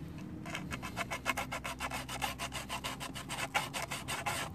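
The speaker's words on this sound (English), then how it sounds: "we might just want to maybe just sand the top" Steady back-and-forth hand sanding of a plastic GY6 scooter handlebar controller part, a rapid rhythmic rasping scrape repeated many times, close and moderately quiet.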